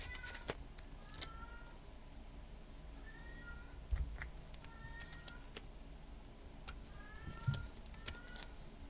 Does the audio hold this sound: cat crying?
yes